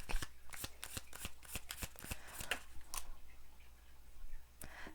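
Tarot cards being shuffled, a quick run of crisp riffling snaps followed by a few softer flicks, close by and quiet.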